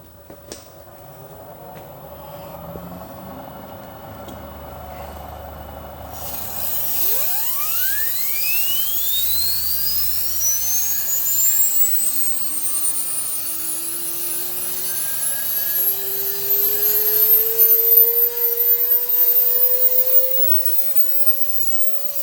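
A Bridgeport milling machine used for jig grinding, a spindle motor spooling up with a rising whine that climbs steadily, over a continuous mechanical hum and a faint grinding rasp, with no talk.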